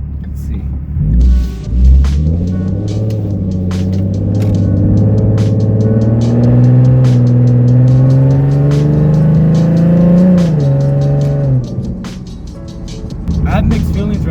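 Aftermarket Roush mufflers on a 2012 Mustang with the 3.7 V6, revved loudly and held up for several seconds with a deep, rising exhaust note before dropping back to idle, close and steady.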